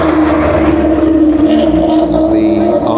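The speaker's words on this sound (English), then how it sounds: "We're just going to get some Clio sound effects," Renault Clio rally car engine idling loudly in a rally service park, a steady low drone with harmonic bands that rises slightly near the end, with faint voices in the background.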